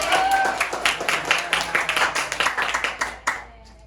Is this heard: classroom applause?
yes